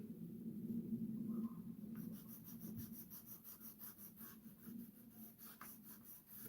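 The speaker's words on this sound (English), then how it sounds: "Then I'll use my ruler to draw my back neckline." A pencil is drawn along a ruler to mark a back neckline on a pattern for an Ankara jacket, making faint, soft scratching strokes close by in a quiet room.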